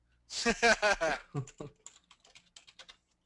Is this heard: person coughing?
no